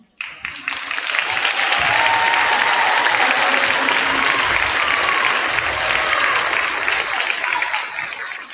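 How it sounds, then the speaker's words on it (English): A crowd at a high school senior intent night claps in a dense, sustained burst that builds quickly and holds steady, with faint cheering mixed in and no talking over it. "Let's clap in."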